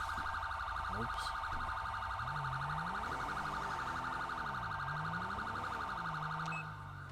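Car alarm going off, a loud continuous electronic siren wail cycling through rising and falling tones for several seconds, with a lower rumbling sweep beneath it.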